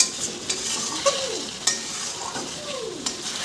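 Chicken leg pieces with fatty bits fry and get stirred in a pan for home-style fried rice, a steady close sizzle broken by a few sharp scrapes and clinks of the spoon, with no talking.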